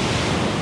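Surf breaks along the shore at Montauk on a thick foggy day, a dense, loud hiss of white water with wind buffeting the microphone, steady and alone throughout the brief moment.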